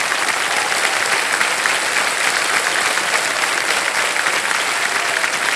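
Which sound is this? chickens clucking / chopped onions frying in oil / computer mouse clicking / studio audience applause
studio audience applause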